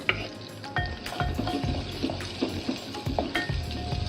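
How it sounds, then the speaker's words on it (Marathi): Crushed garlic frying in a pan with cumin and white sesame seeds, a soft sizzle broken by repeated stirring scrapes and clicks from a spoon against the pan. "आता हा लसूण थोडासा लाल करून घेऊया"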